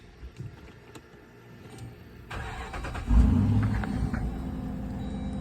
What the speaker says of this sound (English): now that we have the key, we should fire it up